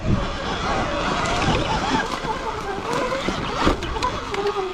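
A Sur-Ron electric dirt bike pushes through water at full throttle, making a continuous churning slosh and splashing rush with a faint motor whine underneath and someone talking over it.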